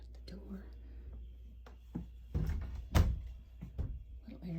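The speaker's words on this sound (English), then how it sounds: "Shut the door." The door of a small cabin retreat near Red River Gorge is pushed shut with a couple of dull, close thuds and a latch knock, amid soft talking and quiet handling sounds.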